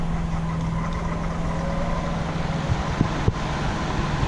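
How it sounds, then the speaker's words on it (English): A Honda EU3000is portable generator runs at a steady, even drone alongside a whirring fan nearby, the two blending into a constant hum with a couple of faint knocks near the end and no voices. "I'm not sure which is louder, the generator or this fan going over here."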